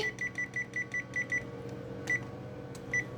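An oven timer gives a run of short, high electronic beeps in steady pairs, then a few isolated beeps, over a low background hum, while homemade muffins bake.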